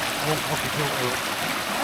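A clean spring-fed wilderness stream flowing, a steady close babbling and rushing of water with voices talking over it.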